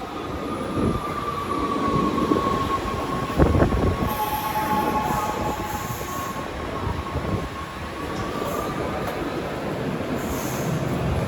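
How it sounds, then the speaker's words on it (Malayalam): A train pulls into a station near Amsterdam with a rolling rumble, a sustained high wheel squeal and a few sharp clanks, loud and close throughout, with no talk. "നമ്മുടെ ട്രെയിൻ ചിരിച്ചുകൊണ്ട് വരണുണ്ടോ?"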